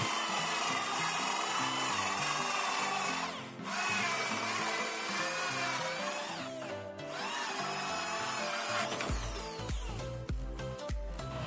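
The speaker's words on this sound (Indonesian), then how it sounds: "kemudian ini saya lanjut lagi untuk pengeboran" A holesaw bores through multiplex plywood with a steady, loud grinding whine, briefly easing twice and then ending with rough clattering as the cut breaks through.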